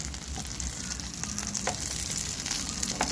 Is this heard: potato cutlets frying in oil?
yes